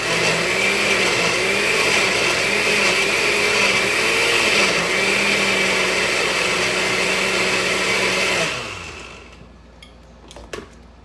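A blender loudly grinding peppers and other ingredients for sofrito, a steady whirring motor roar with a wavering pitch that spins down after about eight seconds, followed by a few faint clicks.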